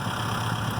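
A tractor engine idles steadily while posts are being set, a continuous loud low drone with no breaks.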